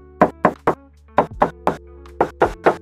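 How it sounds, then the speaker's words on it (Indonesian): Knocking on the smooth, intact body panel of a 2023 Suzuki S-Presso automatic city car, nine crisp raps in three quick groups of three, close and distinct with a faint steady hum underneath. "Kita tes ketok lagi."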